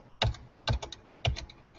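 Three quick bursts of key presses on the number row across the top of a computer keyboard, close and crisp against a quiet room, with no talking.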